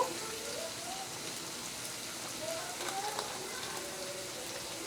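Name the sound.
ground coriander and spices sizzling in hot oil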